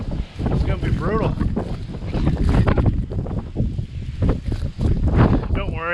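Strong blizzard wind blows snow, roaring and buffeting loudly against the microphone in uneven gusts throughout, while a person speaks over it.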